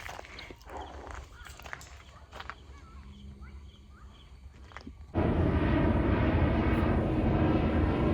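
An Air India or IndiGo airliner passes overhead near Bajpe, Mangalore. Quiet outdoor ambience with faint birds suddenly gives way to a loud, sustained engine roar for the final few seconds.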